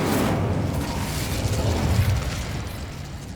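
A fire spell cast in the Hogwarts Legacy video game: a loud, dense whooshing roar of flame that holds steady for a few seconds and thins slightly toward the end, with no voices over it.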